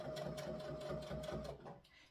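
A sewing machine runs steadily while stitching a quilted Christmas stocking, its needle chattering in a quick, even rhythm close by before slowing and stopping near the end.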